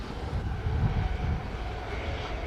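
A United airliner taxiing at Sangster International Airport in Montego Bay, Jamaica, gives a steady low jet engine rumble with a broad hiss, loud and continuous, with no voices.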